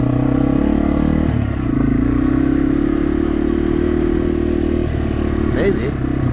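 A Yamaha TW200 motorcycle engine drones steadily at low revs while riding around an old homestead ruin, loud and close, with a little clatter over the constant hum.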